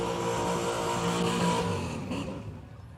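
A drag racing car doing a burnout to heat its tyres at a drag strip: a loud, sustained engine roar with a rough, rumbling tone, holding steady and then fading as it draws away.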